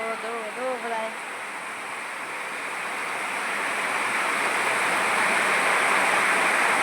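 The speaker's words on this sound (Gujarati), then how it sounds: "આજે અમારા ગામમાં વરસાદ વરસી રહ્યો છે હવે જો પાણી પડે તો જો મંડપમાં" Continuous heavy wind-driven rain hisses and drums steadily on a village festival tent, growing slightly louder, after a short stretch of speech at the start.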